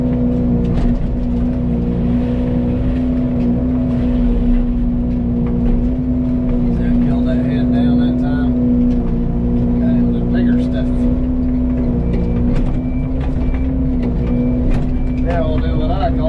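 Fecon FMX36 forestry mulcher head running steadily at higher hydraulic flow while cutting trees, a loud continuous droning hum with a strong steady tone, close and sustained throughout, with faint voices underneath.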